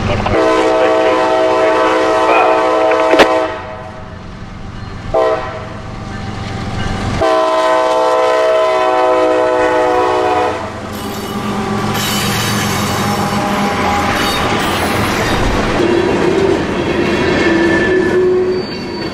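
A freight train with piggyback cars rolls past close by, loud and continuous, with rattling cars, squealing wheels and horn-like tones throughout.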